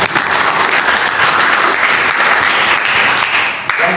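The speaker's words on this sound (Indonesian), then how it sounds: "kasih aplaus buat kita semua" A classroom group applauds in a welding and metal fabrication class, with dense, steady clapping from many hands that carries at an even loudness throughout.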